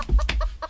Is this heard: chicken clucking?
yes